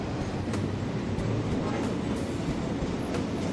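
Steady rumble of a train running in a train-driving video game, a continuous broadband roar with faint clicking, moderately loud throughout and without talk.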